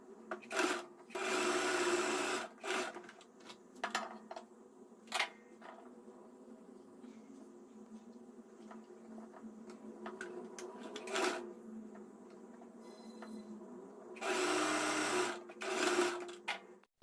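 A sewing machine stitches darts on an Anarkali made from an old silk saree, with loud whirring bursts at the start and near the end and quieter handling and fabric sounds in between.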